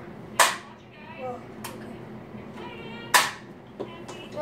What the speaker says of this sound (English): Okay, that dart didn't shoot well.